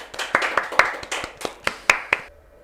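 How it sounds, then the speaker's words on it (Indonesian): A small audience at an Indonesian podcast event claps in about nine sharp, evenly spaced beats, close and clear, then falls quiet. "Tepuk tangan dulu."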